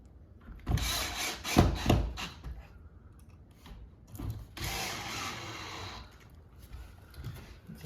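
Screws being driven into a wooden support for a farmhouse shoe and boot bench, with a power driver whirring in two short bursts near the start and a longer burst midway, separated by quiet handling noise.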